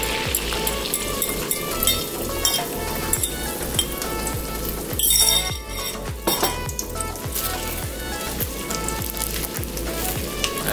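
Beaten eggs hitting hot oil in a pan for an egg and tomato stir-fry, a loud steady sizzle with repeated clinks and scrapes of a utensil against the pan as they are stirred.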